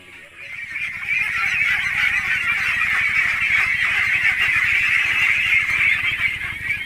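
A group of young ducklings calling nonstop, a dense chorus of high, bright peeping and honking-like cheeps that stays loud and close throughout with no talking.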